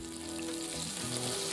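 Rabbit pieces browning in a casserole, a close, steady crackling sizzle of hot oil with a low hum underneath.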